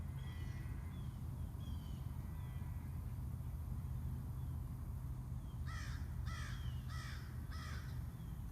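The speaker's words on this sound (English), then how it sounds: "And now you can hear the crows." Crows caw outdoors, a few faint calls early on, then a louder rhythmic run of four or five caws close together, over a constant low background rumble.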